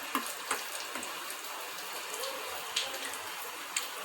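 Badami puri, a layered sweet dough, deep frying in hot oil, giving a steady soft sizzle and crackle with scattered brief pops, moderately close and alone.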